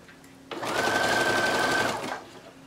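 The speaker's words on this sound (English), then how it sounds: "stitch this down as close to that picot as possible" One close, steady run of a sewing machine stitching picot elastic onto lingerie fabric lasts about a second and a half, with a faint hum before and after.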